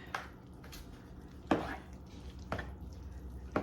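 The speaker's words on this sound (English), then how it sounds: "I'm just gonna stir that up." Spoon stirring ground meat into a ricotta cheese mixture in a bowl, a few soft scraping thumps spaced about a second apart, quiet and close.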